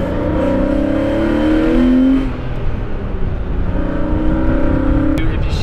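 A BMW E36 M3 with a 391 limited-slip differential drives on the road, its engine droning steadily up close and rising through revs in two surges, with a brief ease-off between them.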